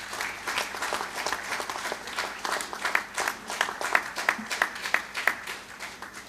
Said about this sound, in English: You should all give applause to him, Dr. Anil Garg,